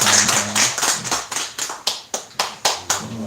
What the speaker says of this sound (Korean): 우리 환영하며 축복하는 박수 한번 부탁드리겠습니다.